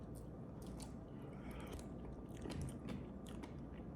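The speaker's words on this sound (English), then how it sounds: "Wow, it has like that crunch to it. Like if you're chewing on crystallized sugar." Crunchy strawberry Little Debbie ice cream is bitten and chewed with steady, close crunching and crackling clicks that run throughout at low level, with no talk.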